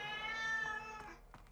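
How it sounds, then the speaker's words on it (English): A domestic cat meows close to the microphone, one long drawn-out tonal cry that fades, followed by a couple of faint soft clicks and shuffles. "that's my cat"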